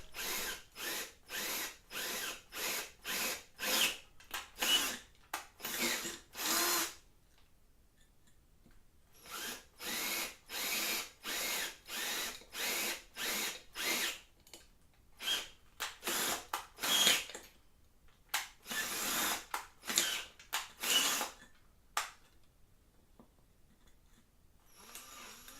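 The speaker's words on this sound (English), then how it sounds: "This is a 8mm drill now." An 8mm drill bit bores through a workpiece for a guitar pedalboard breakout box in repeated short bursts of power-drill whine, separated by quiet pauses, close and fairly loud with no talking.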